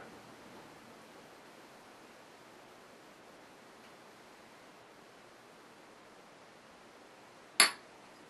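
An aggressive pour of Breckenridge 72 Imperial Cream Stout, a 7% beer, into a glass: a faint, steady rushing hiss runs throughout, ending in one sharp glass clink near the close.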